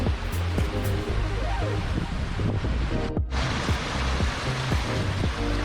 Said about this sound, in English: It's just the sound of water, like when it just like the waterfalls and stuff like that.